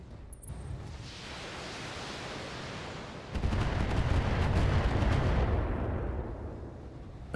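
BattleTech mech weapons fire in a 3062-era battle, heard as a sustained roaring wash of noise that surges louder midway, like a barrage of missiles and cannon fire.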